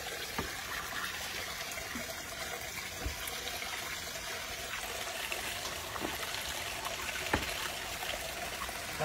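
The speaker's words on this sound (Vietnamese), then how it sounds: "Xả nước đi cho nó nguội đi." Tap water runs steadily over freshly cooked food to cool it in a home kitchen, a soft continuous splash and trickle with a few faint clinks.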